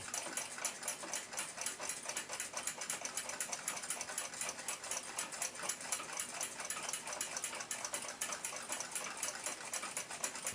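A restored 1926 Lux clock movement runs on its own, a fast, steady, even ticking of the balance and escapement heard close and faint, with no voices.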